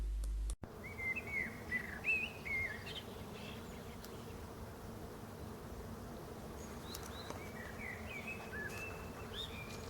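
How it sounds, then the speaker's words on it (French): Birds sing in a summer vegetable garden, with short bursts of chirping and twittering at a moderate distance over a constant close hum of buzzing bees. "une vidéo de plein été avec le chant des oiseaux"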